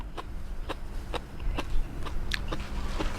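Crunchy beef offal and cartilage being chewed up close, a steady rhythm of crisp bites repeating about every half second.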